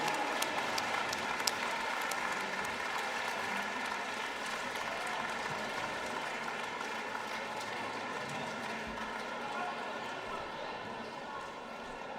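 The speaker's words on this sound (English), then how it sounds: "can we get a massive round of applause for that bout, please?" Crowd applauding after a KO finish in a lightweight title fight at an IFC event in Cheltenham, a steady, dense wash of clapping and cheering sustained throughout with voices mixed in.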